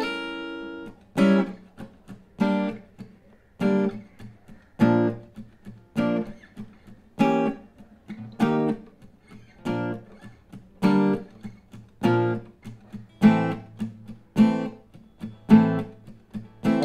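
A guitar plays the bridge of a song: a slow, clean sequence of strummed chords, each ringing out and then fading before the next, heard up close with no talking.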